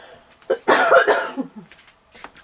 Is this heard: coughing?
yes